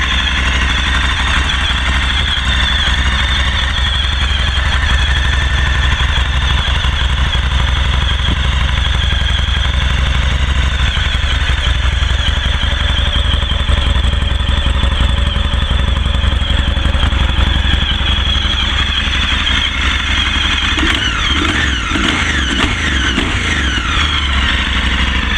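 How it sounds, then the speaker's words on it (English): A Moto Guzzi motorcycle with a transversely mounted engine idles steadily and loudly close by, holding a constant, even throb for the whole stretch with no voices. "And that's a sound that only a Moto Guzzi could make."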